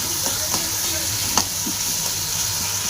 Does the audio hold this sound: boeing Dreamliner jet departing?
no